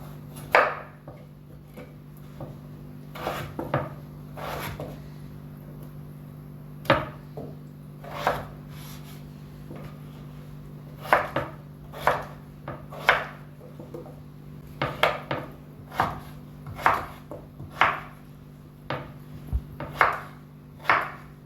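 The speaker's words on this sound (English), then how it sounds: "I'll go ahead and cut my potatoes into small blocks." A knife chops peeled potatoes into small blocks on a board, sharp distinct thuds at an irregular, unhurried pace, close and clear over a low steady hum.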